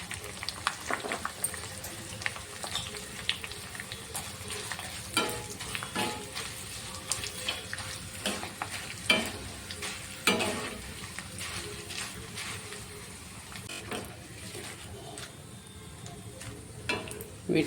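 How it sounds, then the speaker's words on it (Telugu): Corn flakes fry in a pan for masala puffed rice, giving a steady crackling sizzle dotted with scraping stirs and sharp clicks of the spatula, close and moderately loud, no talking. "తర్వాత అందులోకి కొన్ని కార్న్ఫ్లేక్స్ వేసి వేయించుకుంటున్నాను."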